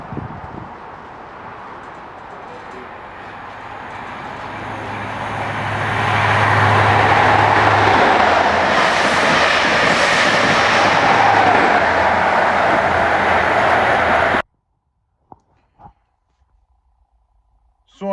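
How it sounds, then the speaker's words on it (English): A fast train rushes through a station platform without stopping, its rumble building over several seconds into a loud sustained roar, then cutting off abruptly, followed by a few faint clicks. "Please stand clear of platform edge, fast train approaching."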